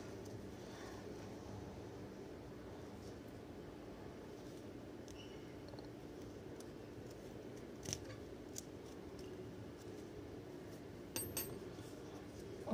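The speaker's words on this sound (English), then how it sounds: "after finishing number of rounds, we will cut both this yarn" Scissors cut yarn while making a crocheted flower. A few faint, brief snips and clicks sit over a quiet background hum, close by, with no talk.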